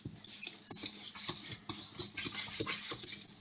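Cornbread batter mixed in a bowl, a rapid rhythmic scraping and tapping of a utensil against the bowl's sides, continuous, close and loud, with nobody speaking.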